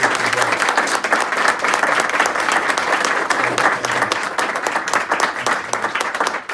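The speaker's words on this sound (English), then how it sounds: "Let's give him a round of applause and Sergeant Jack DeBurros." Sustained applause from the audience at a police press conference honoring officers for heroism, a dense, steady wash of clapping that carries at an even level throughout with scattered sharper claps and faint voices.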